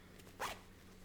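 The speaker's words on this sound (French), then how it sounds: "Elle est fermée sur le côté par une fermeture éclair invisible." An invisible zipper on the side of a sewn dress gives one quick, close zip pull, a short rasping swipe over a low steady background hum.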